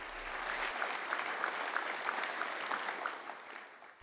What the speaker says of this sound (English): So a big round of applause to the coaching staff of Weslaco.